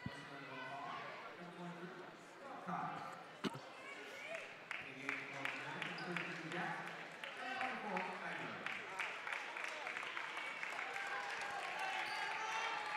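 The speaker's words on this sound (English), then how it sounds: "The Marion Giant faithful giving a round of applause for their starters coming out of the game." A home crowd at a girls' high school sectional basketball game against Marion applauds the starters leaving the floor, steady clapping and cheering throughout with a commentator talking over it.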